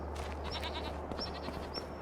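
Goats bleating in Farming Simulator 25, three short high calls spaced across a steady farmyard ambience, moderately near and not loud.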